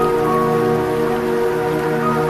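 Steady, loud rain falls continuously with a dense hiss of drops on surfaces, with no pauses or voices.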